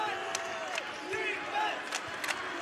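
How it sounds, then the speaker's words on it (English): Crowd noise at a UCF versus Houston men's college basketball game, a steady roar of cheering in the arena with sneaker squeaks and an announcer talking over it. "Crowd definitely alive at this moment."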